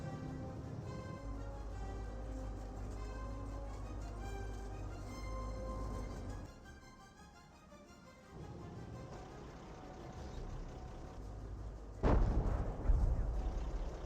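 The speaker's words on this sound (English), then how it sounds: "We got the Humo now firing some of his own big rounds." Heavy artillery rounds fire in the Company of Heroes strategy game over a constant low battlefield rumble, with one sharp, loud blast near the end.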